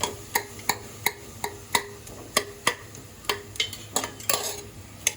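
Onions being stirred with oil in a pan while biryani is made, a sharp spoon clacking against the pan in a steady rhythm of about a dozen strokes over a soft sizzle.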